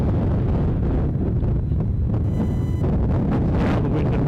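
Strong wind buffets the microphone at Edinburgh Airport, a loud continuous low rumble with gusting roar and faint tonal hum in the background.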